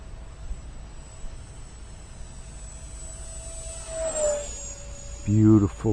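An RC X-Fly A-10 Thunderbolt II model with twin 50 mm electric ducted fans flies at half throttle, giving a steady high-pitched whine that bends in pitch as it passes, with outdoor background noise and a brief burst of talk at the end.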